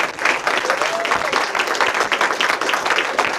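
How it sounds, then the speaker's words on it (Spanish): Loud, close audience applause following a philosophy conference talk, many hands clapping briskly in a dense, uneven patter with a few voices faintly audible underneath. "vamos a darle un aplauso a Jimena."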